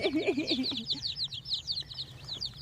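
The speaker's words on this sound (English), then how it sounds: "These are little chickies." Baby chicks in a brooder chirp with rapid, high, repeated peeps, several birds overlapping close by in a continuous chatter.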